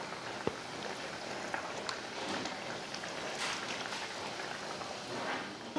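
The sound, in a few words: fish pieces added to simmering fish curry (meen kuzhambu)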